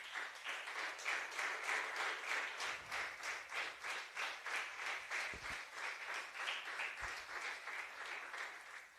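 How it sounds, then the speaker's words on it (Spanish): A church congregation claps during a Spanish-language sermon, steady rhythmic applause filling the room for the full stretch, fairly even and continuous with a slight pulsing beat. "Denle un aplauso al Señor."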